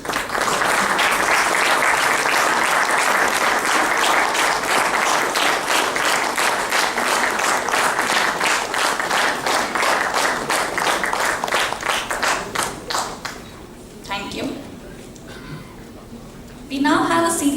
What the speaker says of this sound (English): I now request all the current Executive Council members to stand up to receive a thunderous applause from the audience